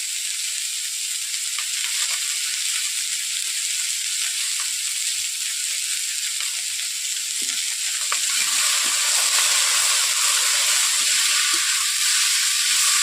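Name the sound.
stirring bottle gourd with spices in a pan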